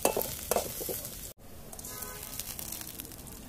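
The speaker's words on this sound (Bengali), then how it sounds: "এবারে ডাল বাগার দেওয়ার পালা।" Spices sizzle and crackle in hot oil as dal is tempered on a clay stove on a rooftop, a loud bright hiss with stirring clatter that cuts out briefly and then keeps frying more softly.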